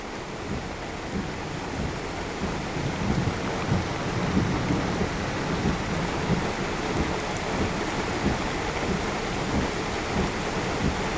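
Steady heavy rain with rolling thunder on Mount Giribolo, a dense continuous outdoor wash of downpour with low rumbles throughout, no voices.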